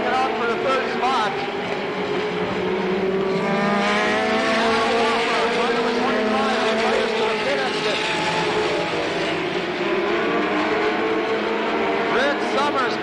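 Stock race cars roar around a short track at the Slinger Nationals in 1985, a dense continuous engine drone with shifting pitch as cars pass, loud and steady throughout with an announcer talking over it.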